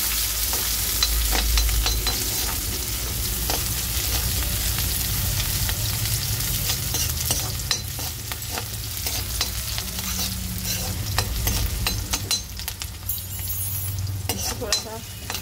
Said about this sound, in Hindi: तेल हमारा गर्म हो चुका है, तो हमने थोड़ा सा प्याज डालना है। हमें इसको तो फ्राई कर लेना है।